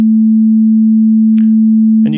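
A steady 220 hertz sine tone sounding the note A holds loud and unbroken for about two seconds, with a brief breath-like noise near the end and a voice starting to talk over it at the close.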